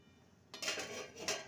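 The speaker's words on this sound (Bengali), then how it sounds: "এবার ডালটাকে ঢাকা দিয়ে সেদ্ধ হতে দেব।" A metal lid clanks down onto a pot of dal cooking with spinach and winter vegetables: a quiet kitchen, then two close clattering knocks about a second apart.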